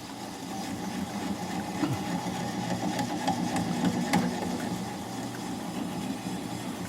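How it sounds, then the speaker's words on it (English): A wood lathe spins a Japanese quilted maple bowl at low speed while a gouge bevel rides against the bottom, giving a steady mechanical hum with light rubbing and scraping throughout. "I'm going to push the bevel of the gouge against the bottom of the bowl."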